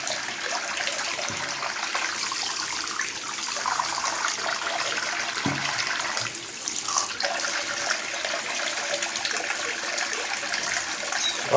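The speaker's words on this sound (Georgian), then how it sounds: "ეხლა წყლით გამოცდა უნდა გავაკეთოთ" Water poured or running through a TOZ-63 double-barrel shotgun during a water test of its barrels, a steady close hiss and splash of flowing water throughout with no talk.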